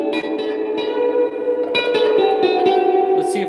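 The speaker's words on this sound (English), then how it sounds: "that's the spring reverb at 10" An electric guitar rings out through a twin reverb amp's spring reverb set to maximum, notes smearing into a long, washy, metallic echo that fills the space.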